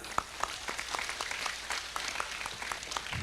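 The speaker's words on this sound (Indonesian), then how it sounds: "Tepuk tangan untuk panitia." Audience at a mosque inauguration event in Ngawi, Indonesia, gives a round of applause. Steady scattered clapping runs for about three seconds at moderate distance with no talking over it.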